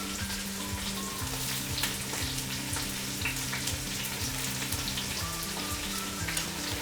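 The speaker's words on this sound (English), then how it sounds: "Let's add our onion into the oil." Chopped onion fries in hot oil for a Kerala chicken curry gravy, giving a steady, close sizzle and crackle that runs throughout with no voices.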